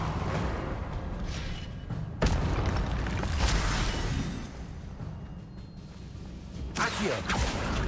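A spell explosion booms in Hogwarts Legacy amid noisy combat, with several loud bursting impacts and rumbling debris that rise sharply and then fade.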